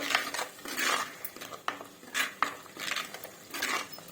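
Murrel fish curry ingredients with salt are stirred in a clay pot, giving about six close, rhythmic scraping and clinking strokes in quick succession.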